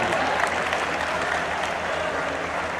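Audience at a school event applauding steadily and loudly throughout, a dense wash of clapping that neither fades nor breaks.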